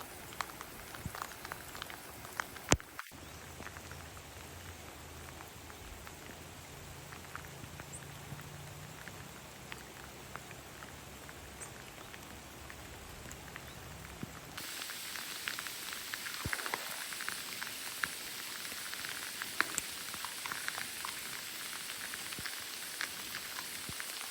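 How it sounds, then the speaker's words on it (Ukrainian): Light rain patters steadily and softly on a raincoat in the Carpathian forest, with fine irregular ticks throughout and a slight shift in tone partway through. "спокійно лишень тріщить по дощовику дощ"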